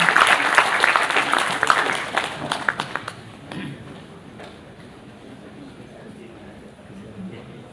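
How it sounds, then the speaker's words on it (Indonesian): Warm applause in a lecture hall for Professor Mitsuo Nakamura at an Indonesian book discussion, loud clapping for a few seconds, then fading into a quiet room. "Tepuk tangan yang hangat, Profesor Mitsuo Nakamura."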